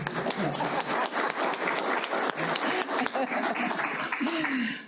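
Audience applause at a history lecture, a busy patter of many hands clapping that stays fairly steady before thinning out, with a little laughter and a voice starting to speak near the end.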